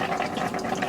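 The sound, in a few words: water draining from a faucet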